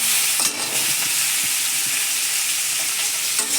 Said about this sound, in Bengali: এই যে পটলগুলো দিয়েছি, এবারে পটলগুলো ভাজবো